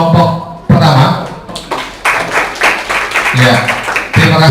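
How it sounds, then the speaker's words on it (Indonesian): Classroom applause for the first presenting group, a burst of clapping from students that swells and fades over several seconds, mixed with voices and some talk. "Tepuk tangan untuk kelompok pertama."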